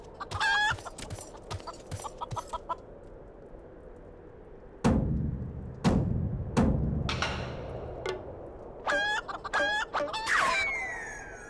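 Chicken clucks and rooster-like calls from the video game Final Fantasy XIV, sharp bursts of bird noises separated by gaps and louder thumping hits, with no voices.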